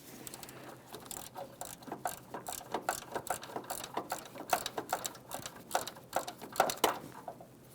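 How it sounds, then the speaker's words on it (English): A hand ratchet clicks in rapid, repeated strokes while loosening a 14mm transmission mount bolt on a 2003-2007 Honda Accord, close and moderately quiet, the rhythmic ticking continuing throughout. "Now we can start removing our three 14mm headed mounting bolts"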